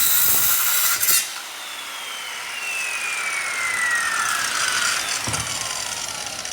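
Circular saw cutting a wooden board clamped in a table vise, a brief loud bite at the start, then a long whining cut whose pitch slowly falls as the blade moves through, close and continuous.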